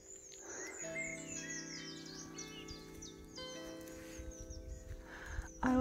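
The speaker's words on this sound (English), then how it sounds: "Just wanted to share the bird song here and this amazing tree." Birds sing and chirp on a walk near Manaton Rocks on Dartmoor, with repeated high trills and tweets over a soft outdoor background, fairly near, and no one talking.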